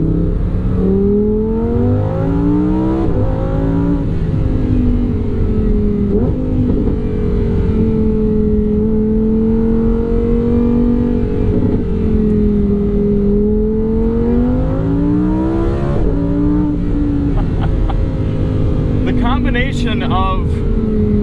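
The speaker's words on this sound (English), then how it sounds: "So let's listen to some V10." Lamborghini Huracan Sterrato V10 on all-terrain tires accelerating hard on a road, the engine note climbing through several revs and gear changes, loud and close throughout.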